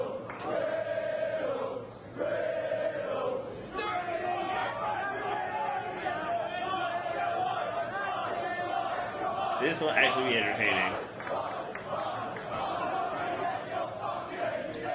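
Wrestling crowd at a live match featuring Tyler Bate, a steady loud roar of cheering and chanting filling the arena, with commentators talking over it throughout.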